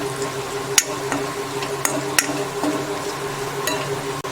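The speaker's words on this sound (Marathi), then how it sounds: "आता हे सर्व मिक्स करूया।" Spices being stirred into chana usal in a pan, a low simmering sizzle with a few sharp spoon clinks and scrapes against the metal, close and short.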